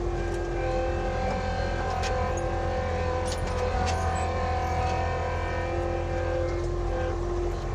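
An Avant compact loader drives over ground while spreading gravel at a construction site, a steady close diesel engine drone with a constant hum and occasional faint clicks and rattles.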